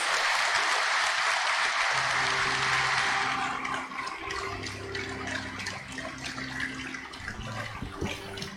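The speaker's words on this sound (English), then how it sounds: "Let us all stand and give our newly ordained bishop a warm round of applause." Congregation applauding a newly ordained bishop at an episcopal ordination Mass, broad steady clapping filling a large church for several seconds, then thinning and fading under sustained organ or choir tones.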